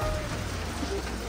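Rain falling steadily in snowy Himachal mountains, a dense continuous patter close by with a low rumble underneath, with no talking.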